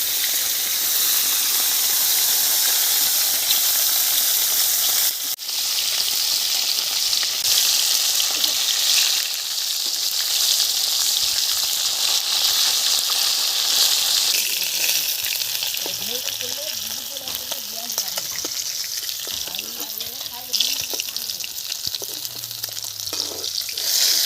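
Fish fry in hot oil in a pan, producing a loud, continuous frying hiss with a sharp crackle near the start and some softer bubbling and faint movement toward the end, close up, with no clear speech.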